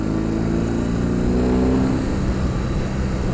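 A BMW R 18 Roctane boxer motorcycle engine rumbles steadily with a low, throbbing idle, swelling briefly as it revs before settling back.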